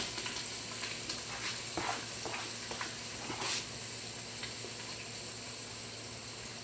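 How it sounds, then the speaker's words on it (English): Vegetables hit a hot pressure cooker pot for Japanese curry. They give a moderate sizzle with a few sharp spits and clatters early on, then settle to a softer, steady frying hiss with no voices. "So while this is already popping, I'm gonna take my vegetables and add it in."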